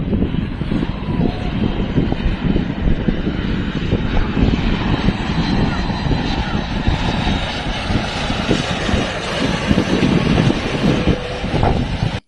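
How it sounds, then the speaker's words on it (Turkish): A low-flying airplane approaching Ordu-Giresun Airport, heard from the beach beside it as a loud, steady engine roar with a broad rushing drone that holds throughout, no voices. "Ordu Giresun Havalimanı'na yaklaşan bir uçağın alçak uçuşu sosyal medyada da birçok kişi tarafından beğenildi."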